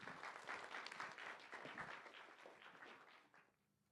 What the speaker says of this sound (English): Okay, another round of applause.